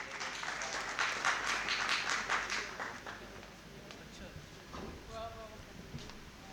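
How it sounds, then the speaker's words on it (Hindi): An audience at an Urdu poetry and literary gathering claps loudly for about three seconds, then the applause fades out and a voice begins speaking. "जोरदार तालियों में।"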